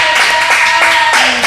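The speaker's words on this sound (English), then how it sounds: "Y'all clap it up." A few rhythmic claps in a studio interview setting, three or four evenly spaced loud hits close to the microphone, with a faint tonal hum underneath.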